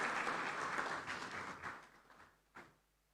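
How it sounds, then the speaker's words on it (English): Applause for a speaker at an African inter-parliamentary conference, a broad clapping wash that fades over a few seconds, followed by one brief louder burst near the end. "Please, a round of applause for Dr. Hudenga David."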